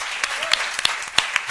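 Audience applause at a rock concert, dense and close, with sharp individual claps standing out in a steady burst; no speech over it.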